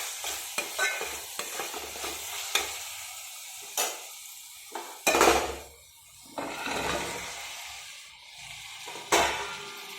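Drumstick pieces fry in a pan for cashew curry, crackling and sizzling as they're stirred, with repeated scraping bursts of the spoon over steady hot-oil hiss, close and fairly loud.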